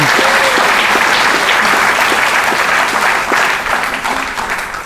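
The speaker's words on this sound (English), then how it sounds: "Can we have a round of applause for the teachers in this building, the staff in this building?" Steady applause from an audience at a high school awards ceremony, dense clapping with a few voices over it, tapering off toward the end.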